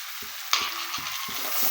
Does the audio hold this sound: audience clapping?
no